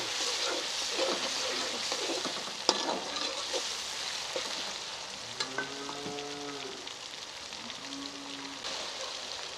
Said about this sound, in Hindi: मसाले को अच्छे तरीके से भून लेना है